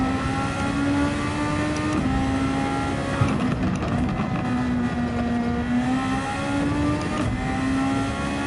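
A Superformula single-seater in Gran Turismo 7 races around Catalunya, its engine screaming loudly and continuously with rising and falling pitch through gear changes, tires faintly squealing beneath, and no voices.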